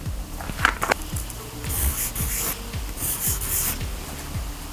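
Soft wax crayons rub and scratch across paper in short repeated strokes, each one a dry, close scraping sound with light taps in between, and no talking.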